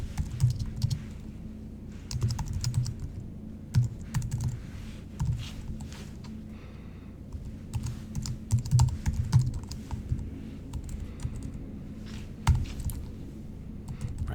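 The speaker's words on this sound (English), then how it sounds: "So I'm going to type here for a minute." Keystrokes on a computer keyboard in bursts of fast typing with short pauses, clattering steadily at close range with a low background hum and no talking.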